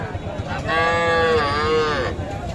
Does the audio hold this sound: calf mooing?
yes